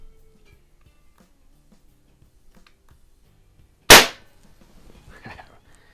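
A Crosman .22 caliber CO2 pistol fires one sharp, loud shot at a target seven yards downrange, with a quiet outdoor background before and after.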